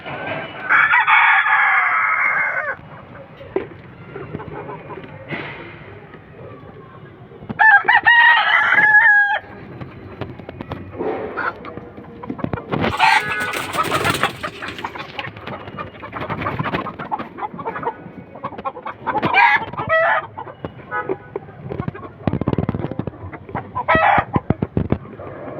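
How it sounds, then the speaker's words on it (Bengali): Hens clucking and a rooster crowing on a rooftop poultry setup with mixed egg-laying breeds including Sonali, loud bursts of crowing and cackling close by, separated by quieter scratching and scattered clucks. "আমাদের ছাদের উপরে কিছু প্যারেন্টস মুরগি আছে"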